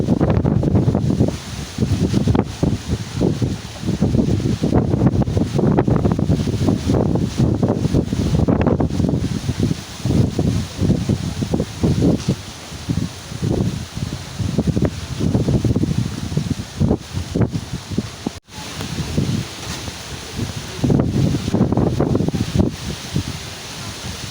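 Strong gusting wind roars across the microphone during a dust storm at SM Mall of Asia, a loud continuous buffeting with brief dips and no talk.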